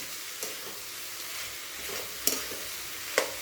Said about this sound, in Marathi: आणि हलवून घ्यायचं आहे